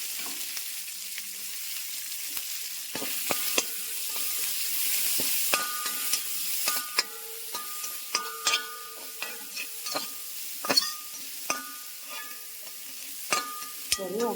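Crushed shallots and curry leaves sizzle and fry in hot oil in a pan, a soft steady crackle punctuated by sharp scraping clicks as a spoon stirs them.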